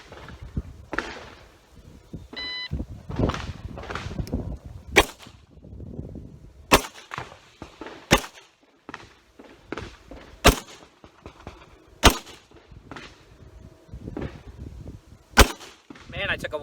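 M9 pistol shots ring out on an outdoor qualification course at 25 yards: about six sharp, loud single cracks spaced a second or more apart, with someone talking between them.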